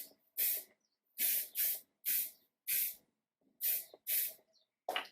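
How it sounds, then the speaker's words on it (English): L'Oreal Lock It Bold Control hairspray with 48-hour hold, sprayed onto hair in about eight short, close hissing bursts at an uneven rhythm, with no talking. "Lock It Bulk Controlled Hairspray, 48-hour hold by Loreal"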